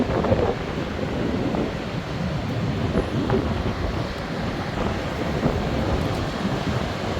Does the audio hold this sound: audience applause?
no